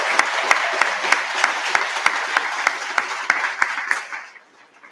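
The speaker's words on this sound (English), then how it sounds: "Everybody, a nice round of applause." Audience applauding at the closing ceremony of a rocket launch competition in Canada, a steady wash of clapping with a few sharp individual claps standing out, fading away over the last second.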